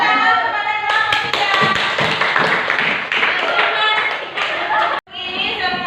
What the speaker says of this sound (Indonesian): Tepuk tangan kepada kelompok